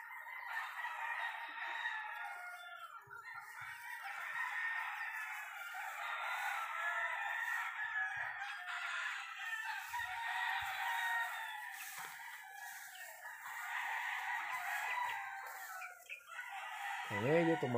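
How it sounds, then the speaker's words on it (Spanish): Chickens, including elite breeding roosters and hens, cluck and crow steadily throughout, a dense, moderately loud chorus of overlapping calls with no talk. "aquí tenemos de todos los padrotes élite y la gallina"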